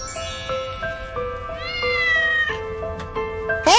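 A three-week-old kitten meows repeatedly up close, a run of thin, high, wavering cries that rise into a sharper, louder squeal at the end.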